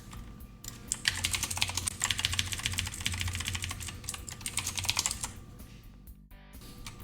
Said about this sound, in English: I just like tactile feedback on my keyboard.